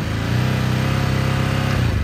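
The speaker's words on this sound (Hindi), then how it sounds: "मैंने जैसे बाइक को स्टार्ट किया, बाइक अभी स्टार्ट है, तो स्टार्ट करने के बाद जैसे ही मैं इसका थ्रॉटल दूंगा ना खड़ी के अंदर" A Ducati Hypermotard 950 engine at standstill revs as the throttle opens, a loud, steady twin-cylinder drone held against a rev limit, close to the bike and without pause.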